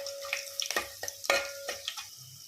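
Tempering spices for sambar, mustard seeds, cumin, garlic and dried red chillies, sizzle quietly in oil, broken by a few sharp stirring scrapes and taps of a spoon against the pan.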